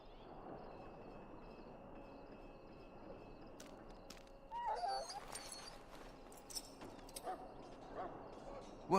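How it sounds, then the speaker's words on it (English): A penned dog in the Dragon Age: Origins video game whimpers and yips in soft, broken bursts. Ambient game sound plays underneath, and there are brief vocal sounds near the end. "Now I can treat the dog properly, poor fella."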